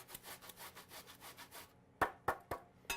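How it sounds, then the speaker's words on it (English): Onion rubs against a kitchen grater in a series of quick, soft rasping strokes, followed by a few sharper taps near the end. "I'm just going to grate a little bit of onion."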